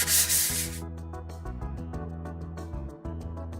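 A countertop is worked over with 150 or 200 grit sandpaper, a steady, close scraping rub that opens with a louder burst of friction and then continues at an even, rhythmic level.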